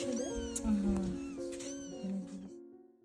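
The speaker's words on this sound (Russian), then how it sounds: "А еще и котят выбросили." Several tiny three-week-old kittens, abandoned from an apartment block entrance, meow in repeated high cries, close and fairly clear, with a voice speaking over parts of it.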